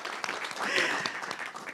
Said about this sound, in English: So I want to give a applause for Erica and Daniel as well.